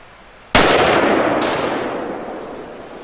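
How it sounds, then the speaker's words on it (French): Two sharp rifle shots from a Mauser M18 chambered in .243 Winchester, fired outdoors in cold weather, the first loud crack ringing out with a long decaying echo, the second following about a second later. "Voilà donc 3 tirs."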